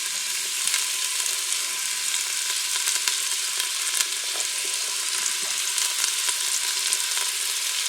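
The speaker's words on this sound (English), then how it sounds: "You don't have to saute these vegetables, but I think it does give them a little bit extra flavor." Onions, carrots and celery sautéing in an Instant Pot, a steady bright sizzle with faint crackles and occasional stirring scrapes, close and continuous throughout.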